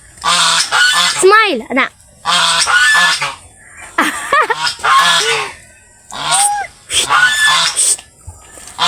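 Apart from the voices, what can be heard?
geese honking on a farm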